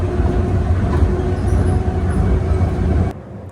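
A Tokyo Monorail train pulling away from a station, a steady loud rumble and hum of the running car heard from inside, cutting off abruptly near the end.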